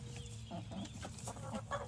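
A broody hen clucks in low, soft bursts, a few murmured clucks spread across the clip against a steady farmyard background.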